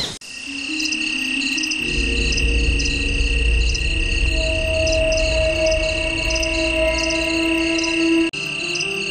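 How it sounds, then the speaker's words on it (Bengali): Crickets chirp in a forest at night in a dense, continuous trill that stays loud and steady throughout, with no people talking. "যদিও চারদিকে ঝিঝি পোকার ডাক"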